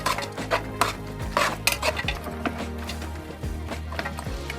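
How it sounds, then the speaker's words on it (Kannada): Raw washed mutton pieces drop into a metal pot for a spicy Malnad-style mutton masala, with clinking pot and utensil knocks and a few sharp clatters over a steady kitchen hum. "ಮಟನ್ನ ತೊಳೆದಿಟ್ಕೊಂಡು ಮಟನ್ ಹಾಕೋಣ"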